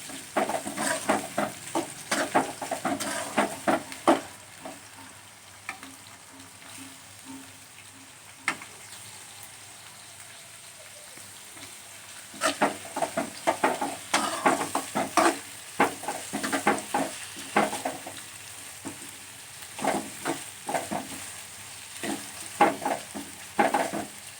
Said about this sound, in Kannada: ಎಣ್ಣೆ ಕಾಯಿಸಿ ಈರುಳ್ಳಿ ಹಾಕೊಂಡದು ಈರುಳ್ಳಿ ಹಸಿರು ಮೆಣಸಿನ್ಕಾಯಿ ಚೆನ್ನಾಗಿ ಫ್ರೈ ಮಾಡ್ಕೊಳೋದು